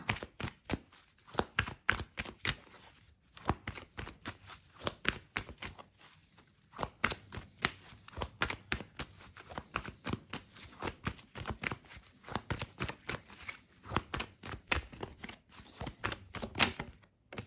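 Oracle cards shuffled and drawn from a deck for a love reading: a steady run of quick papery riffles and soft slaps, close and fairly quiet, with brief pauses between bursts.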